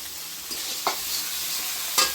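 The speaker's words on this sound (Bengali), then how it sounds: "এখন আমি মশলাটা ভালো মতো কষাই নেব" Spice paste frying in a pan, a continuous close broadband sizzle with a few sharp stirring scrapes against the metal.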